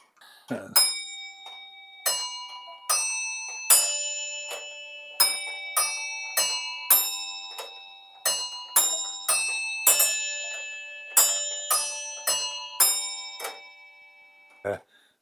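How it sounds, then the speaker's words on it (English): Four small bells of a hobby-built tower clock model ring out the four-note Westminster chime melody, clear struck tones sounding one after another with ringing decay between strikes. "he had to tune them exactly to this Westminster sound, those four little bells, so you get this nice melody"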